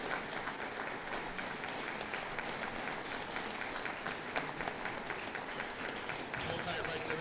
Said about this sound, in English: let's give them a big giant round of applause